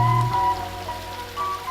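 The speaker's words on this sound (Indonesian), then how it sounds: "Gemericik air yang mengalir" Water flowing and trickling in a village stream in Kampung Naga, West Java, a steady splashing babble with a faint tonal hum running through it.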